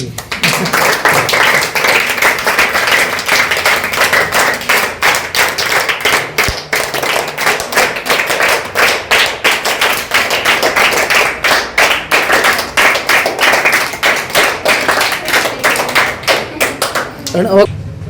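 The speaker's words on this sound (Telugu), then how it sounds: "చప్పట్లు కొట్టండి" Sustained applause from an audience at a talk, many hands clapping steadily for a long stretch, with a voice speaking at the start and end.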